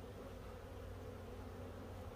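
Honey bees drone steadily around an open Warre hive during an inspection, a dense continuous buzz with no voices over it.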